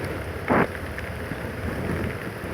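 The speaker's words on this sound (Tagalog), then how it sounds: "Ayun, malakas na ulan" Heavy rain pours down steadily in a flood-prone area, a dense, loud, even hiss of rain on surfaces throughout, with one brief louder splash or knock near the start.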